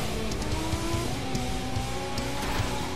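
A Lamborghini in a street race in the game The Crew 2, its engine droning steadily and loudly with tire squeal and skidding layered over it, continuous throughout with no talk.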